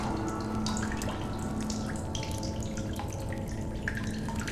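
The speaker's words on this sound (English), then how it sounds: "Oh, that's water, yeah." Water drips and trickles steadily in the video game The Solus Project, a dense continuous splashing wash with scattered brighter drops, alone without speech.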